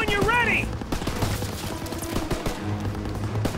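Machine gun fire rattles in sustained bursts during a World War II battle in Call of Duty: World War II, loud and close, with shouted voices and a rising whistle cutting through the gunfire.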